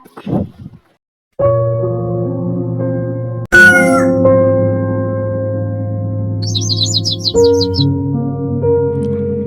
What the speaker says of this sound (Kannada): ಕೋಳಿಗಳ ಮತ್ತು ಹಕ್ಕಿ ಪಕ್ಷಿಗಳ ಕೂಗು